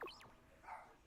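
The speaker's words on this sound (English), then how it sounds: "My dog is just upstairs barking at nothing." A dog barks somewhere upstairs, a couple of short, faint, distant yips and a whine-like bark, muffled and quiet.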